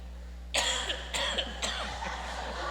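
A person coughs three times in quick succession, sharp close bursts about half a second apart, over a steady low hum with no talking.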